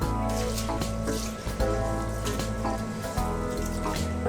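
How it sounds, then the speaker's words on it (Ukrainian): Long-grain rice being rinsed under cold running tap water, a steady close trickle and patter of water over the grains with no talk. "І тепер ми промиваємо рис під холодною водою декілька разів."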